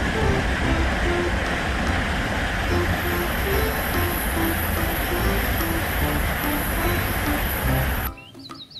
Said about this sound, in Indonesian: lihat, di sini ada kereta cepat